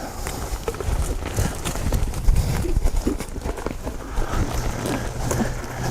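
Hooves of a cutting horse working a cow thud and scuffle on the ground in quick, irregular beats, fairly close, amid wind and outdoor noise.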